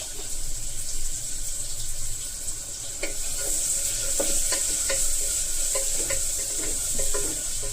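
Green chillies frying in oil in a pan, a close, steady sizzle with scattered crackles and pops and occasional stirring clicks throughout.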